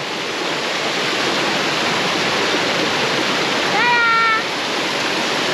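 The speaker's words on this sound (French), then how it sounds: "Qui a déjà vu une cascade comme ça" A waterfall roars close by as a loud, steady wash of rushing water, with a brief bird-like chirp rising over it near the end.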